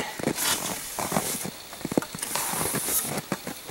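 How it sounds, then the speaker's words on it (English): An extended roof rake pole slides shut as its telescoping sections collapse, giving a run of scraping, rattling clicks and knocks with a steady hiss behind them, close and fairly loud, with no talk. "It's telescoping on me again."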